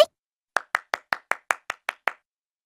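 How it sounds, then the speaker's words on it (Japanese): Applause in a video game: eight crisp, evenly spaced hand claps in quick succession after a short pause, sharp and close with no other sound between them. "拍手喝采"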